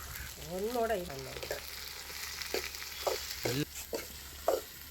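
Chopped tomatoes sauté with softened onions in a pan for village-style red bean gravy, a soft sizzle under a few spaced scraping stirs, with a brief squeaky tonal sound near the start.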